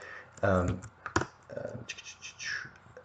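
Keys clack on a computer keyboard in scattered bursts of clicks and taps, with a voice speaking in between.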